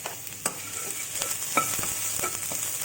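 Garlic sautéing in hot oil in a pan: a continuous bright sizzle with occasional light scrapes and taps of a spoon, moderately quiet and close, with no voices.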